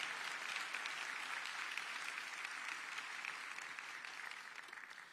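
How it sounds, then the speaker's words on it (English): A county address audience applauds its staff with sustained, even clapping from a crowd, fairly distant and steady throughout, tapering slightly at the end. "All of them, give them a round of applause."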